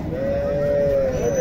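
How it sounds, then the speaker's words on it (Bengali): A cow at a busy cattle market lets out a single long, loud moo, close by, over a background of crowd murmur. "এই দেখেন গাভীটা,"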